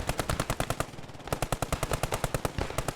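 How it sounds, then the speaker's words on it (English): Rapid automatic gunfire in the WWII video game Post Scriptum during a hillside infantry battle: a loud, steady stream of close machine-gun bursts with a brief pause, then more sustained firing. "the Allied infantry who approached up the hill and made it just to the ridge are under fire now"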